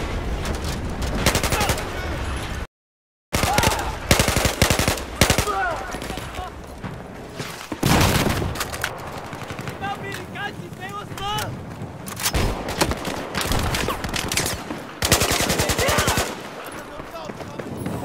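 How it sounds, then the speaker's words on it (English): Rapid automatic gunfire and explosive shots from the Battlefield 4 video game on Xbox One rattle loud and dense in bursts, with a brief dropout early on and game voices mixed in. "I got these fools shooting at me"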